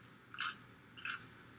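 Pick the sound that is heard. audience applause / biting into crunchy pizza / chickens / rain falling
biting into crunchy pizza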